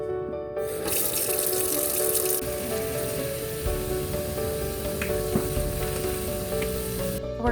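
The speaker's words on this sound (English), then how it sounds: "I'm just going to wash up these dishes left behind after breakfast" Warm tap water runs steadily into a kitchen sink as breakfast dishes are washed, a continuous close hiss and splash with faint clinks, no voices.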